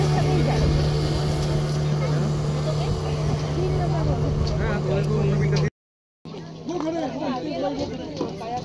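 A ten-seater motorboat passes on a lake, its engine droning steadily and loudly, with a lower drone continuing over nearby crowd chatter and voices after a brief dropout.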